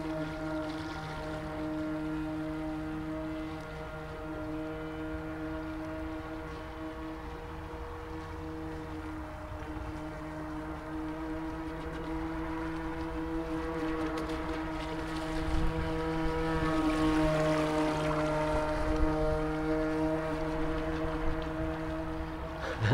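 A vintage RC model boat with a replacement motor runs on open water among tall reeds, its small engine giving a steady droning whine heard from a fixed spot, growing slightly louder as it nears, with light wind noise.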